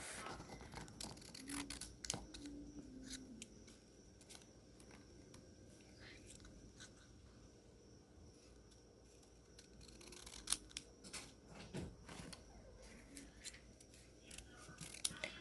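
Scissors snip through paper for a kids' cat craft in a quiet room. The close, faint cuts come in uneven runs of crisp clicks and rustles, with soft talk under them.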